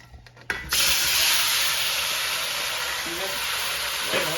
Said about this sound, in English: Nice sizzle. The sizzle is going.